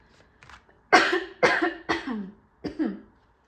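A close, fairly loud run of about five harsh coughs in quick succession, with a faint throat sound just before them.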